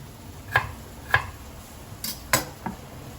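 Knife on a cutting board doing a rough chop of vegetables for a lentil and kielbasa salad: five separate crisp taps, spaced unevenly, close and fairly quiet with no talk.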